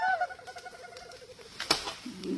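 A person imitates a bird call with a quick series of chirping whistles, followed by a sharp click and faint voices, outdoors while gathering wild honey.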